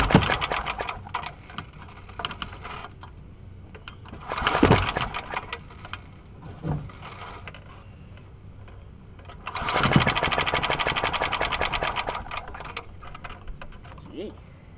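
An old lawn mower engine is cold started in repeated pull attempts, each a brief sputtering burst before a longer rough run near the end, with voices speaking between the tries.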